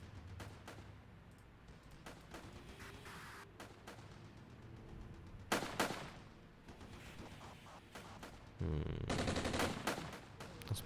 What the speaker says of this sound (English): That is 50 cal fire, actually.